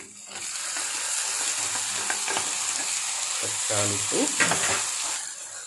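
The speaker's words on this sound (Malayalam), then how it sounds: "തക്കാളി ഇട്ട് വഴക്കൊണ്ടിരിക്കുകയാണ്" Tomatoes and browned onions sauté in a pan as the base for a prawn roast, with a loud, continuous sizzle and frequent clattering spoon scrapes up close.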